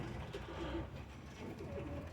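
Soft, low coos from Birmingham Roller pigeons repeat a few times over a faint background murmur, fairly quiet and close.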